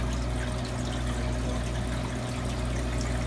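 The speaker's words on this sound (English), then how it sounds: "so much water is coming in, it was pouring out." Water pours steadily out of a leaking ice machine, overflowing the bin in a constant close rushing splash with no pauses.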